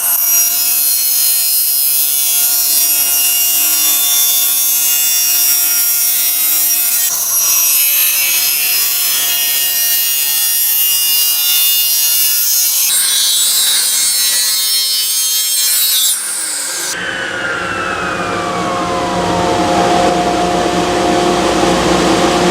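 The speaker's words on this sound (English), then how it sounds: "Now I'm going to put it through the table saw and try to square up this one face" A table saw cuts through a wood board to square up one face, a sustained close whine and rasp that shifts in pitch as the cut progresses, then the blade spins down with a falling tone near the end.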